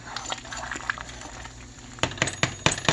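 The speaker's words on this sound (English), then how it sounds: "So we'll add a little at a time and just stir it up." Metal spoon clinking against a pot while stirring beef barley soup, a few soft scrapes followed by several sharp, close taps and clinks toward the end.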